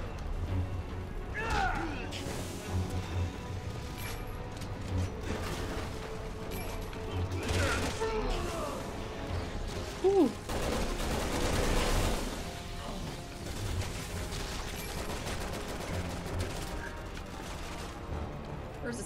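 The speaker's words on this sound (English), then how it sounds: "With stupid machine gun." Machine gun fire in the video game Resident Evil 6, with repeated bursts and booms amid game mechanisms throughout, while players talk over the shooting.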